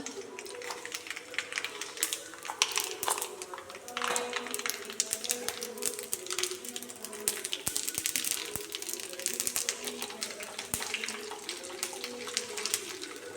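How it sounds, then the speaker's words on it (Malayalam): Mustard seeds crackle and pop in hot oil in a continuous, dense spatter of sharp snaps that keeps going steadily throughout, with faint talking in the background. "കടുക് പൊട്ടി വരുമ്പോൾ നമുക്ക്"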